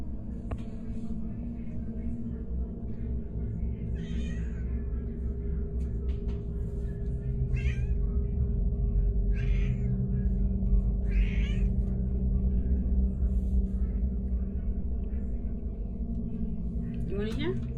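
A cat meows again and again at intervals, fairly close, over a constant low rumble, and a voice is faintly heard speaking at moments.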